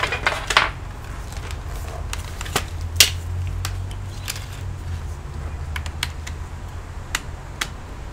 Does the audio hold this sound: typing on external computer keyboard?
yes